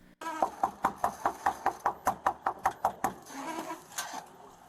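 Knocking on an apartment door, a quick run of about fourteen evenly spaced, sharp knocks, close and loud, followed by a softer rustle and one last knock.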